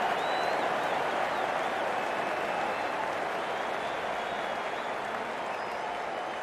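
Crowd applauding and cheering at a cricket match between the Seattle Neptunes and Portland Hipsters, a dense, steady roar of clapping that stays loud and continuous throughout.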